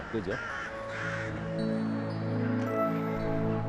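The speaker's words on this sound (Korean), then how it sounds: "서로에게 소통하는 시간에 지금 까마귀 소리 들립니다." Rooks and jackdaws caw at dawn in a winter roost in Ulsan. Harsh, repeated calls overlap from a big flock at moderate distance, while someone talks briefly over them.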